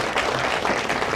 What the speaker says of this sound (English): let's clap for our panelists tonight